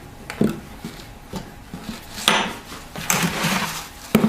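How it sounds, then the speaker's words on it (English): A knife slices slits into the top of rolled stromboli dough, giving a series of short, close scraping cuts and light taps against a board, spaced irregularly with brief pauses between strokes. "you're going to get a knife and you're going to cut some slits on the top"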